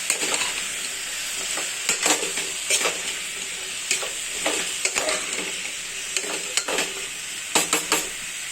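Pumpkin pieces and onion fry in a hot pan with a continuous sizzle, broken by repeated sharp scrapes and clacks of a spoon stirring against the pan.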